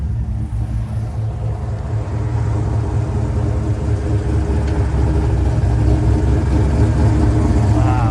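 A 1986 Ford Mustang Foxbody with a 5-speed gearbox idles close by, a loud, steady low rumble that swells slightly toward the end, with no talk over it.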